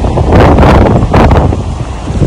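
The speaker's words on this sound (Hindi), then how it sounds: "इतनी हवा चल रही है।" Strong wind blowing through the mountains of Kinnaur in the Himalayas, a loud, steady roaring gust buffeting the microphone throughout with no voices.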